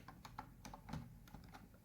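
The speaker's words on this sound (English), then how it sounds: "And I'll just type here" Quick typing on a computer keyboard, a dozen or so light, close key clicks in an uneven rhythm, quiet and alone.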